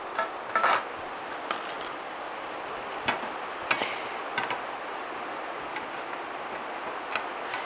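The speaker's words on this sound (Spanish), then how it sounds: "voy a dorar unas galletas, un paquetito de galletas" Crackers toasting in a pan for mole de rancho, giving scattered light ticks and scraping clicks as they are moved about, with a brief louder clatter near the start and sparse taps over a quiet background.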